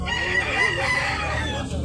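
A yellow-legged fighting cock crows once at close range, a drawn-out call over a noisy outdoor background in Tabunok, Cebu.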